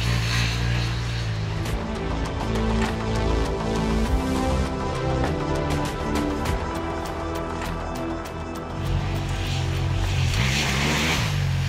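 KTM 890 Adventure parallel-twin motorcycle riding off-road on a dirt track, its engine rising and falling through throttle changes and revs, loud and close for the whole stretch, with wind and rough-ground noise mixed in.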